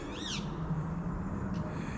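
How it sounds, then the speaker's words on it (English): A wild parakeet perched just overhead gives a sharp, wavering squawk at the start, with a fainter call later, heard clearly over steady outdoor background hum. "Got a parakeet just above my head, squawking away."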